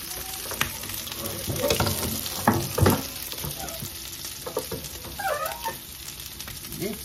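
Quail meat stir frying in a pan, a close, busy sizzle with loud scraping and clattering of a utensil stirring through the pieces, easing toward the end.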